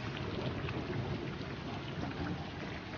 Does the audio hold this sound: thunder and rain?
yes